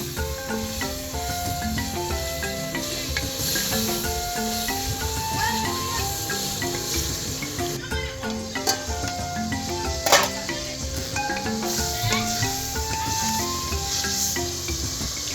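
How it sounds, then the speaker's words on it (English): Beef sizzles with onions in a pot over a village cooking fire, a loud continuous frying crackle broken by occasional scraping stirs, with no talking. "we uncover the pot and stir the beef again"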